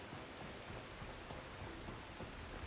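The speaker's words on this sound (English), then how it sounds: "It's raining too." Rain in the video game The Last Caretaker, a faint, steady patter and hiss of falling drops with no other sound over it.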